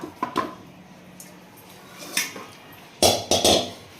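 Cooking pans and metal utensils clatter as a kadai is picked up for making bottle gourd sarva pindi, with sharp clinks and bangs: a couple early on, one mid-way, then a louder cluster near the end.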